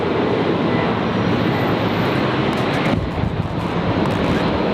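A loud, broad jet roar from an aircraft departing Brisbane Airport fills the air steadily, mixed with gusty wind buffeting the microphone.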